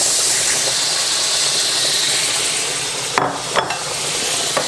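Shrimp sizzling in a pan with lemon while being stirred for Italian-style linguine: a steady, close frying hiss throughout, broken near the end by a couple of short scraping stirs.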